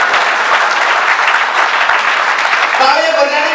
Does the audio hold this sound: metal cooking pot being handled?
no